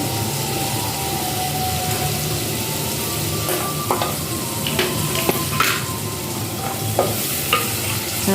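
Curry leaves and hot green chilli spit and sizzle in hot oil for a South Indian-style taro sour dish, a loud, steady frying hiss broken by a scatter of sharp pops and crackles.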